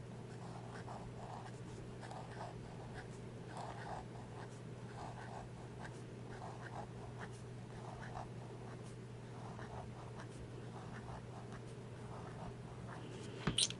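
Pen or pencil scratching across journal paper during a quiet practice session of writing and printing, steady and close throughout, with a constant low hum underneath and a brief bump at the end.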